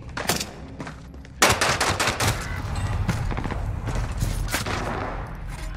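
Rapid bursts of PPSh submachine gun fire in a video game crackle in dense, uneven volleys, louder after a sharp onset and continuing almost without pause to the end.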